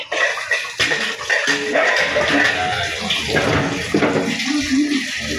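Water pours steadily from a tap in a home kitchen, a continuous close splashing rush without pause.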